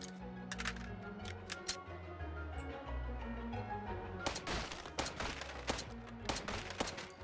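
A gun fires repeatedly in the VR shooter Hot Dogs, Horseshoes & Hand Grenades, sharp cracks over a steady background that thicken into dense rapid bursts in the second half.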